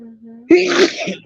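A single sharp, loud sneeze bursts out after a short murmured hum, trailing off into breathy noise.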